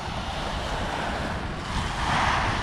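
Surf rolls onto an empty beach on the Jurassic Coast as a loud, continuous wash of breaking waves mixed with wind buffeting the microphone, with no talking.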